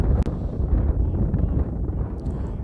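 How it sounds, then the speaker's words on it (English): Gusty wind buffets the microphone at a Kansas ballpark, a loud low rumble and roar that surges and dips unevenly for a few seconds with no voices. "We thought it was windy on Monday afternoon, and winds were just about 25 and gusty."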